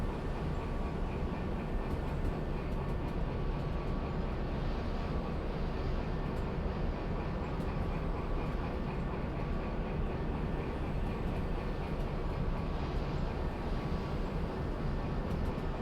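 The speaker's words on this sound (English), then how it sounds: "It's a long train." Steady, continuous rumble of a long train running in the Derail Valley simulation game, a dense low roar with faint high whine, holding constant throughout with no talk.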